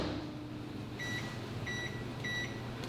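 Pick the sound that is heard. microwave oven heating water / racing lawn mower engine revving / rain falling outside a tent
microwave oven heating water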